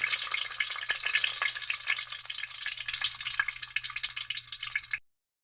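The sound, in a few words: ginger frying in hot oil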